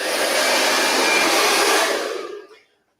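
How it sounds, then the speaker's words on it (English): A Sanvia Artist Series hair dryer prototype blows with a loud, steady, broadband whoosh close by, then shuts off and winds down to silence over the last second. "This is the old prototype for the Artist Series dryer."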